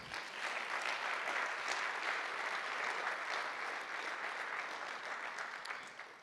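An audience applauds at a live stage performance, a dense sustained clapping that starts abruptly, swells near the start and tapers gradually toward the end.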